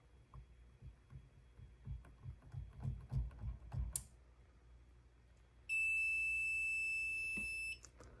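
House and garage fire alarm systems are set off together. After some low thumps and handling knocks, a loud, steady electronic alarm tone sounds for about two seconds, then cuts off.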